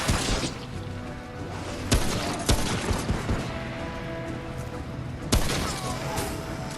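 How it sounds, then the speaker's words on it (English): Repeater pistol shots in the game Remnant: a few sharp, loud cracks spaced irregularly over a continuous rumbling, clattering layer of combat noise, with no talking. "And there you got to see me use my pistol"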